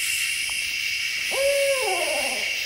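Close barred owl hooting in a night forest, a single loud descending call with a warbling tail standing out over a steady high insect drone.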